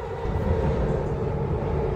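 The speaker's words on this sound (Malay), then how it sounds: "kita naik menggunakan public transport iaitu LRT untuk menuju ke Avenue K" Inside a light rail LRT train in Kuala Lumpur, a steady low rumble of the moving carriage fills the space, loud and continuous, with no speech.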